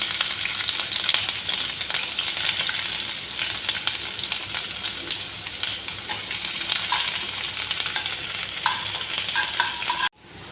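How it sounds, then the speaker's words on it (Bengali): Chopped onion, garlic and green chilli frying in hot mustard oil, a loud, dense, continuous sizzle close by with faint stirring, cutting off abruptly near the end. "সরষে তেল গরম করে লেছি এখন পেঁয়াজ কুচি রসুন কুচি আর কাঁচা লঙ্কা কুচি ভাজি লেব তেলের মধ্যে"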